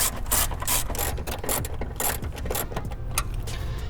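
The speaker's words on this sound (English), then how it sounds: "underneath the trunk, behind the carpeting, are gonna be 2 14mm nuts that you're gonna have to undo" A ratchet undoes 14mm nuts beneath the trunk carpeting of a Toyota 86 / Subaru BRZ during a coilover install, producing rapid, close bursts of metallic clicking in uneven strokes without any voices.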